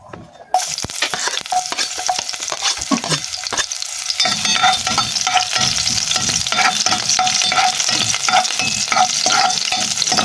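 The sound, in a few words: sautéing fish with shrimp paste in a pan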